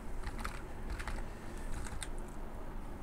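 Rapid, irregular keystrokes on a computer keyboard enter a terminal command, soft and close, clicking over a steady hiss with no talking.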